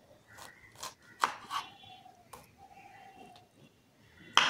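A kitchen knife chops through a coconut in a few sharp, separate knocks and cuts, close and fairly quiet, with one louder crack at the end.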